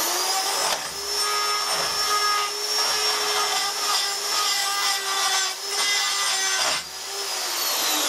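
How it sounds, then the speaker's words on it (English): A die grinder with a carbide cutter cleans aluminium on an engine mount repair, giving a steady, high, piercing whine with brief dips as the cutter bites and lifts off the metal. "The easiest way to do it is a carbide cutter and a die grinder."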